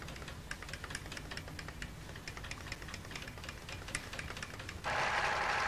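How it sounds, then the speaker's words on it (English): Pfaff sewing machine whose needle is driven in small steps by a stepper motor on a cog, a rapid regular ticking chatter over a low mechanical hum, ending in a louder broadband burst. "I think you can see the stepper motor moving the needle in this machine"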